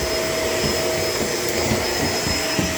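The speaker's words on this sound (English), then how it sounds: "Good thing I decided to vacuum this too" A Shark LA702 vacuum cleaner running at close range, a steady loud motor whine with a constant high tone over a rough airflow roar, unbroken for the whole stretch.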